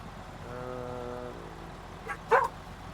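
An indoor dog gives a drawn-out whine, then two sharp, close barks in quick succession over a low room hum, with no one talking.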